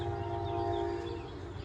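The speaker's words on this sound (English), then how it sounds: "You can hear the commuter train coming across." A commuter train crosses over the river in the distance, heard from a garden as a sustained tonal horn-like whine over a low rolling rumble, moderately faint and steady with no talk.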